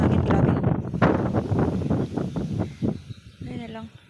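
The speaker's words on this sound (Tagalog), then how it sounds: "Grabing hangin, ang lakas." Strong gusty wind on a farm by a cornfield buffets the microphone in rough bursts while a person speaks over it, with a brief tonal sound near the end.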